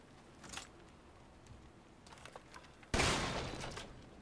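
A gun fires in the survival horror game Resident Evil Village, with faint clicks and movement sounds before a single loud, sharp blast that rings out and decays slowly.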